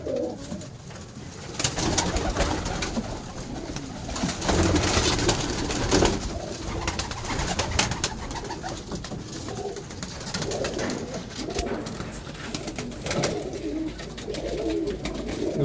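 Crested pigeons coo in low, repeated throaty calls, close and continuous, over a busy background of rustling and handling noise.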